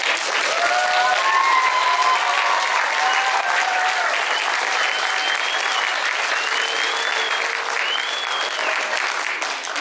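A crowd of parents at a children's Christmas concert gives the teacher a long, loud round of applause, with dense clapping sustained evenly and a few whistles or cheers rising above it.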